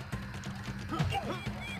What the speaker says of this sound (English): come on, birds!